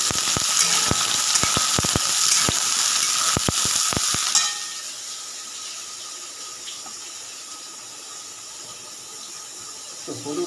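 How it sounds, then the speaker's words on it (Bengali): Food frying in a home kitchen pan crackles loudly with sharp pops over a dense hiss for about four seconds, then drops to a faint, steady sizzle. "এগুলো তো ভেজে নিচ্ছে।"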